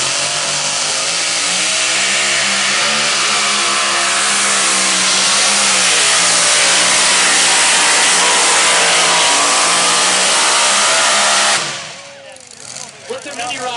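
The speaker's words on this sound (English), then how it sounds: "Young man does know how to drive a puller tractor." A puller tractor engine revs hard during a tractor pull, a loud, sustained, rising roar lasting most of the run before it drops off abruptly near the end and leaves rough lower rumbling.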